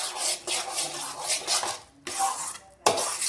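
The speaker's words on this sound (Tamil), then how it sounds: "எல்லா பாசிப்பருப்பையும் சேர்த்துட்டு நல்லா கிளறி விட்டுக்கோங்க." A spoon scrapes and stirs moong dal halwa in a pan over low heat, rhythmic rasping strokes in short bursts broken by brief pauses and a sharp knock near the end, close up with no voices.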